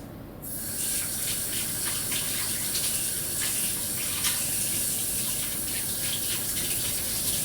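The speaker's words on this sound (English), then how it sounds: "A little bit of warm water." Warm water pours steadily into a dish of Bulgarian moussaka. It starts abruptly, then runs as a continuous close gushing splash with no pauses or speech.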